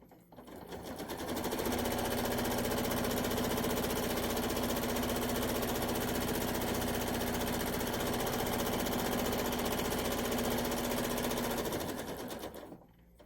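A sewing machine runs steadily while stitching quilt-as-you-go rows, giving a loud, continuous mechanical hum with a fixed pitch for about eleven seconds. It starts and stops cleanly, with no voices.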